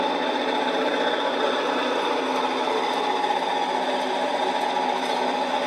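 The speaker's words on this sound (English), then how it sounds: "it's the sound of a diesel on a steam locomotive" A model train sound unit plays a diesel engine rumble on a steam locomotive at a country fair, a steady, dense mechanical drone with no pauses or talk.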